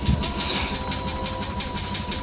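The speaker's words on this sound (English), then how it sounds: "I apologize for the noise. I'm actually being domesticated and doing a wash." A washer dryer runs with a steady mechanical rumble, a faint rhythmic pulsing and a thin whining tone throughout, close by and fairly loud, with no talking.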